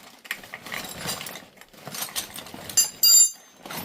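A spanner ratcheting on the inlet manifold of a Talbot Express engine during a rebuild, heard as quick mechanical clicking bursts nearby with brief pauses between them.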